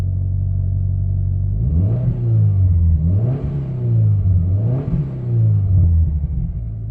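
A 2012 Subaru Legacy GT fitted with a Nameless 5-inch exhaust heard from inside the cabin, a steady low idle drone rising into three smooth revs that swell and fall back, loud and close with no talking.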